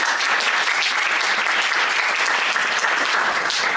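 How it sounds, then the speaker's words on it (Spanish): At a panel session on socioeconomic integration and work-based regularisation, the audience breaks into sustained applause, with loud, dense, even clapping that carries on throughout. "Un aplauso."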